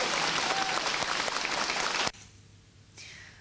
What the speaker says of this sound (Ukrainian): Оплески, дякую вам!